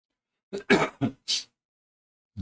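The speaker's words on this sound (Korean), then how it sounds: "아침이라 기침이 좀 많이 나오고 있습니다" Four quick harsh coughs in a tight cluster, close and fairly loud, then silence.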